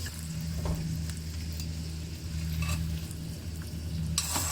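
Sausages sizzle steadily in a frying pan with a continuous crackling hiss, occasional scrapes and stirring clicks, and a brief clatter of utensils near the end; no voices.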